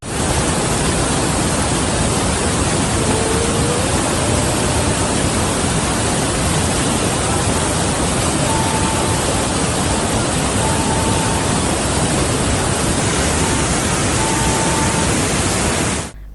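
Flood water rushes around the submerged Edupayala Durgamma temple during heavy rains in Telangana, a dense, unbroken roar that stays loud and constant throughout, with no voices.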